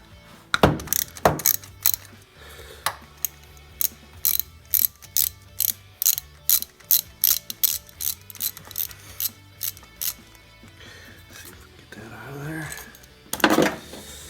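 A hand ratchet with a 1/2 inch socket clicks in a long run of sharp, evenly spaced strokes while loosening the distributor hold-down on a 1968 Oldsmobile 442 during an HEI install, with a voice briefly heard.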